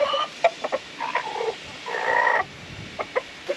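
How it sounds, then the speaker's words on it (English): An Alaska homestead chicken clucks in short, close bursts with a couple of longer drawn-out calls between quick single clucks, fairly quiet against a still background. "So Steve Homestead had two chickens left."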